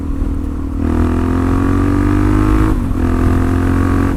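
A Suzuki DRZ-4SM motorcycle engine revs up close and loud, climbing in pitch, dropping briefly, then rising again in a steady throaty drone.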